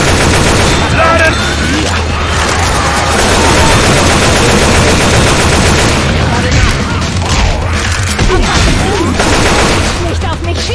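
Gunfire in the zombie shooter game Left 4 Dead: loud, dense bursts of automatic fire and booming shots throughout, with shouting voices mixed in.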